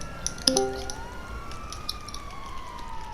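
An ambulance siren wails in a video game roleplay, a rising and falling electronic tone sweeping steadily, moderately loud, with a brief clunk near the start.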